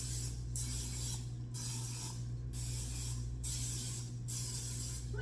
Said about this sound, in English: ahead and spray the tin. I'm gonna just spray the whole thing